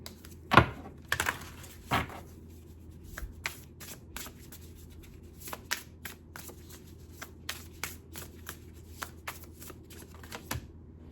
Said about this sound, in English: I'm gonna get 3 cards from the Realist Oracle deck.